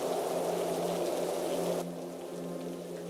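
Steady rain falls on a village on a cold winter night, a dense, even hiss of drops that fades to a softer, quieter patter partway through, with no voices.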